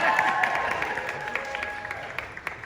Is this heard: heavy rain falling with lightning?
no